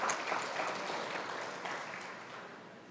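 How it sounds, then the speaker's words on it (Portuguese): Church congregation applauding after a call to praise during a sermon, a dense, even wash of clapping from a large crowd that holds steady and fades slightly over a few seconds. "Dá um aplauso ao Senhor que cuida de nós."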